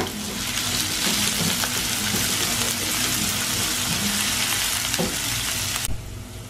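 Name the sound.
onions frying in a pan for halwa puri curry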